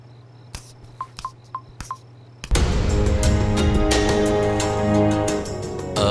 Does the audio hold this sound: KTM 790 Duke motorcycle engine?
no